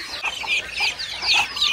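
Free-ranging chickens on a village farm raised alongside ducks, called in for a feed of rice, give repeated short clucks and calls close by, in a busy overlapping patter.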